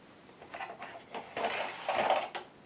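A sweater knitting machine carriage slides back across a row in a few short, soft rasping swishes and clicks, close and quiet, with brief pauses between strokes.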